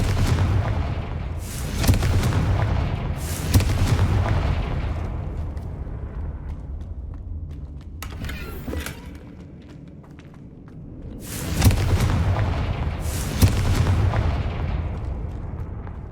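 Confringo fire spells exploding in the Hogwarts Legacy video game, several loud booming blasts in irregular bursts with crackling fire and rumbling decay between them.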